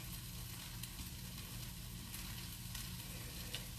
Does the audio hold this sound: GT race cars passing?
no